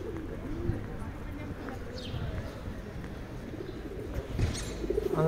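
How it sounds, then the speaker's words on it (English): Pigeons coo intermittently on a busy street in Brasov, Transylvania, Romania, faint beneath steady city bustle and nearby talking. "And there's your bloody pigeon."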